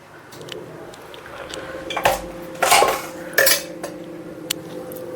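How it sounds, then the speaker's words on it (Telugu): A pressure cooker clatters onto a stovetop in a home kitchen while oil is poured in for a spicy boti (goat tripe) curry, with several sharp metallic knocks and scrapes over a low background hum, no talking. "కుక్కర్ పెట్టి దాంట్లో ఆయిల్ వేస్తున్నాను"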